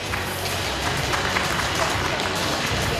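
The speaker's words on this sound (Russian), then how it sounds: "Аплодируем." Sustained applause from a crowd at a bodybuilding competition in Kazan, a steady wash of clapping that runs loud and unbroken through the whole moment.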